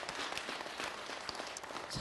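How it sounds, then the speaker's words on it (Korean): Applause from a studio audience at a Buddhist monk's televised Dharma talk, a steady, even wash of many hands clapping throughout, moderately distant. "박수로 맞으세요."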